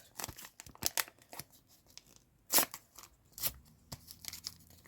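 Close, crisp rips and crinkles of a paper packet being torn open in short bursts, with rustling handling between tears and no talking.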